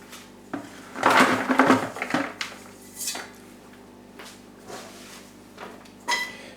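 A saucepan clatters against a kitchen sink while scooping soaked coconut husk coir into a bucket, with a burst of scraping and knocking followed by a few lighter isolated clunks, close and moderately loud.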